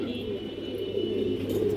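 A pair of red pigeons of an old breeding line coos softly and steadily nearby, with low, continuous calling and faint background murmur.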